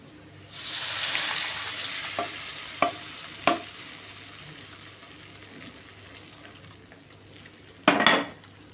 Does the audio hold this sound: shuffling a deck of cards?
no